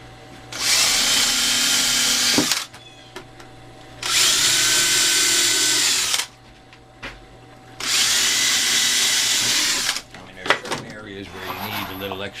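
Power drill running in three long sustained bursts of about two seconds each, drilling pilot holes and driving 1.25-inch deck screws into wood for a bird feeder, with clicks and handling noises between bursts and after.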